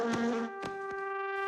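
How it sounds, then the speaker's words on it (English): A cartoon bee buzzes with a steady, tonal drone that holds its pitch while brief louder accents pulse through it, close and alone with no talking. "It's just a plain old bee."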